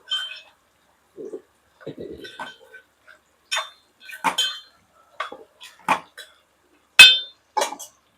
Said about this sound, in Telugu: పక్కన ఆలు కూర కూడా ఒకసారి కలుపుతాను